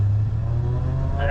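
A Toyota Supra car accelerates away nearby, a steady low engine rumble and road roar that rises in pitch toward the end, with talk over it.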